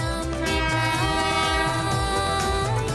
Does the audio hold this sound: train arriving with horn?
yes